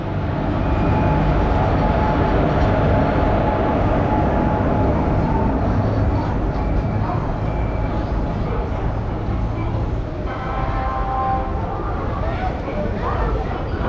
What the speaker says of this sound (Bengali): আজিমগঞ্জ কৃষ্ণনগর ট্রেন আমাদের ঢুকছে